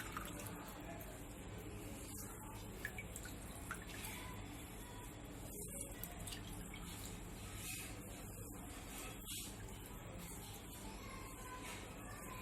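Water draining steadily from freshly cooked rasagulla as they are strained, a continuous soft trickle and splash heard close by, with no talk over it.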